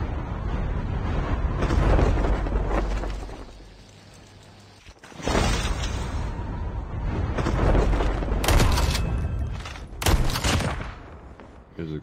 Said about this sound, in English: Explosions going off towards the main room.